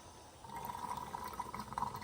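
Fresh gasoline pours from a can into the fuel tank of a 16-year-old 22-inch Toro Recycler Personal Pace lawn mower, a faint, steady liquid trickle with a gurgling rise, quiet and without voices.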